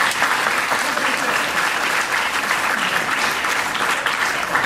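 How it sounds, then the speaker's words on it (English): An audience applauding at a church service, a continuous, loud, even wash of clapping that fills the entire few seconds without pause. "And that'd be a good place for you to applaud."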